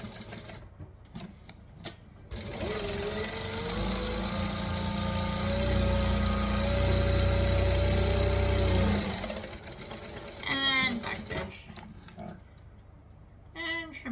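A fast-running sewing machine stitching quickly through fabric, its steady mechanical whir building for several seconds before stopping, with brief speech-like sounds near the end.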